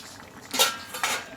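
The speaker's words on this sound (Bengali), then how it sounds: "এবার ঢাকনাটা তুলে নেবো আমি" A lid is lifted off a cooking pot of vegetarian kabuli chickpea curry with potatoes, making two short, close metallic clinks about half a second apart against a quiet kitchen background.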